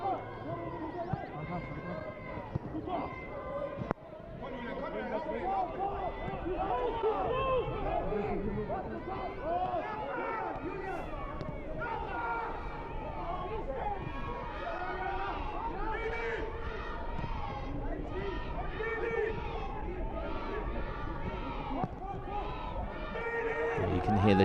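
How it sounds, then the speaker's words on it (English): Home supporters of Borussia Dortmund chant steadily through a youth under-19 semi-final football match against Hertha Berlin, a dense continuous crowd roar with rhythmic swells, while a commentator talks over it throughout. "You can hear the chants from the home crowd of BVB getting behind their boys"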